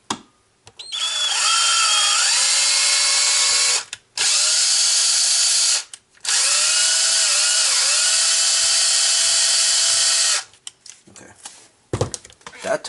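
A power drill whines loudly in two long bursts, its pitch sagging as a 5.5mm bit bites into a plastic RC car wheel hub, with short pauses between runs.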